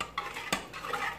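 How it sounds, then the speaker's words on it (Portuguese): Spoon stirring dissolved gelatin inside a tall pressure cooker pot, with scraping swirls of metal against metal and a sharp clink near the middle, close and clear without speech. "Por isso que eu gosto de mexer já na panela aqui de pressão, porque como ela é alta, a gente consegue mexer melhor"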